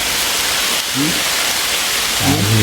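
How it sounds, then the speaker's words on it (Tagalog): Heavy rain pours down in a loud, steady hiss that fills the whole clip, with a couple of brief voices faintly under it. "Kay ulan na malakas."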